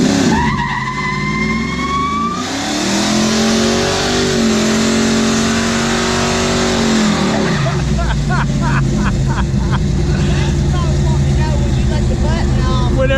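During a burnout attempt, a car engine revs hard and loud, climbing in pitch, dropping, then surging again as tires squeal, with voices briefly in the mix.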